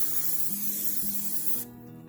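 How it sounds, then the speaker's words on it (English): A short hiss of oil spray from a can onto a hot pan, steady and close, then it cuts off, leaving quieter background sizzle. "To a hot pan, I'm going to apply some oil spray,"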